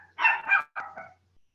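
A small pet dog barks indoors in a quick run of about four sharp barks in two close pairs, fairly loud and clear, with no one talking over it.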